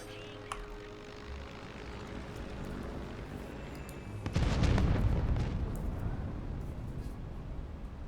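Aerial bombing in the strategy game Humankind: a low, rumbling run of explosive booms swells suddenly midway and lingers under faint game ambience, with no speech.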